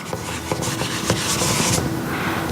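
A drawing is rubbed off a board with an eraser, making a brisk scrubbing sound of repeated close strokes that runs steadily for a couple of seconds, with no talking.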